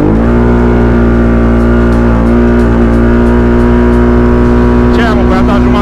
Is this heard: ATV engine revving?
yes